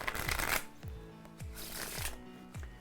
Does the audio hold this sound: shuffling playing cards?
yes